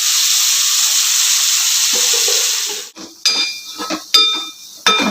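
Athalakkai vegetables fry in oil in a pan, giving a steady sizzle at first that drops away, followed by several sharp clinks and scrapes of a utensil stirring against the pan.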